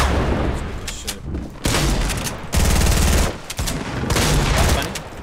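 Bursts of gunfire in Fortnite, loud and close, rapid shots in clusters with brief gaps between volleys.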